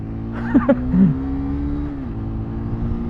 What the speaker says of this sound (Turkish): Kısa mesafe yokuş yukarı ivmelenmesini göstermek isterim. Gözü açtım.